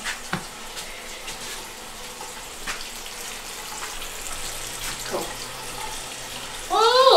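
A tap runs steadily into a sink while a child's face is washed, making a constant close water hiss with a few small splashes, and it swells louder near the end.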